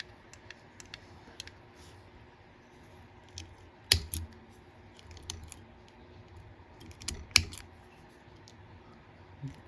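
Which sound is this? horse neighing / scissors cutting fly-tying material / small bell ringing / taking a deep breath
scissors cutting fly-tying material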